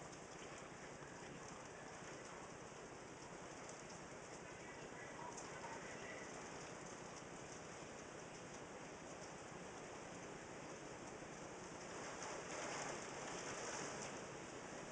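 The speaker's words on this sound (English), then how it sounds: "So it's raining really heavy." Heavy rain falls steadily during a bad storm, a dense continuous hiss of drops heard alone with no talk, slightly swelling toward the end.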